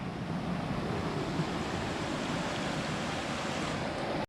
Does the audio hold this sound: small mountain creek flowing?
yes